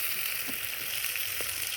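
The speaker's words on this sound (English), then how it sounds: "We have to fry carrots and onions for some few seconds." Carrots and onions sizzle in a pot, a steady close frying hiss with a few faint stirring knocks and no voices.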